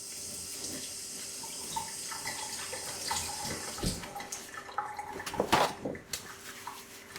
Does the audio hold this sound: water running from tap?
yes